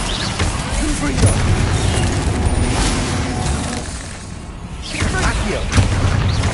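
Confringo fire blast spell cast in the Hogwarts Legacy video game, a loud fiery burst with booming, crashing impacts over a dense, continuous game soundscape, briefly dipping before swelling again.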